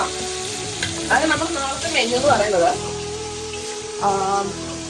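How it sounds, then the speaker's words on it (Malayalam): Chicken pieces shallow-frying in a pan for curry, with the skin crisping and a steady close sizzle that carries on under a tonal background sound. "നമ്മൾ ഹെൽത്തി ആയിട്ടുള്ള ചിക്കൻ ഫ്രൈ ആണ് ഇപ്പോൾ കാണാൻ പോകുന്നത്."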